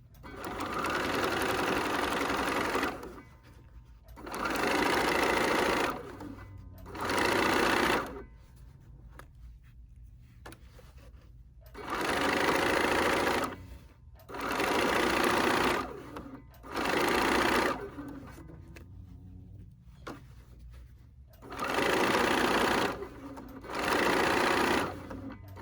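Sewing machine running a straight stitch on a pin cushion, close and loud, in repeated bursts of rapid whirring stitching separated by short pauses.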